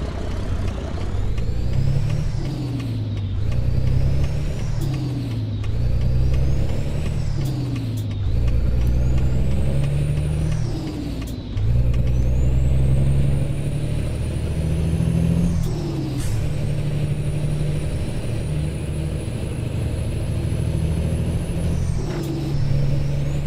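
Heavy truck engine in American Truck Simulator hauling a Lode King trailer, droning and rising through repeated gear shifts, with sharp hissing air brake releases between pulls, loud and close, no talking.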